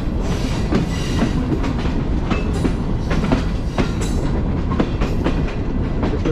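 The Green Line Express premium train runs along a rail track, a loud steady rumble close by with repeated clickety-clack of wheels over rail joints throughout.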